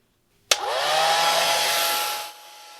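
A hair dryer switches on abruptly and blows steadily at close range for almost two seconds to dry watercolor paintings, its whirring motor whine holding constant before cutting off.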